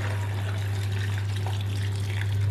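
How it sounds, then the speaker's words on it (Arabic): Meat broth for a rice and meat majboos being strained into a pot, a steady continuous pour of liquid with a constant low hum underneath, close and fairly even throughout. "صفي المرق من كل هالاشياء واصفيه هنا"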